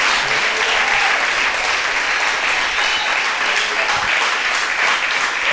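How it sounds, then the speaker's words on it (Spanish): Worshippers at an evangelistic church service clap for the Lord, a sustained, even roar of applause from a large crowd lasting over five seconds, unbroken by talk. "Denle un aplauso al Señor"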